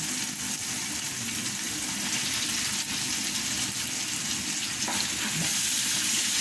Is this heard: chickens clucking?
no